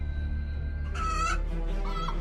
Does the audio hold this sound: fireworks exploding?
no